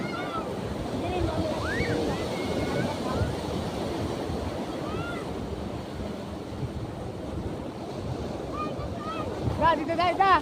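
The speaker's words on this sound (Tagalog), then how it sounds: "Mataas yung alon." High ocean waves roll and crash continuously on a beach, with wind buffeting the microphone and people calling and shouting over the surf.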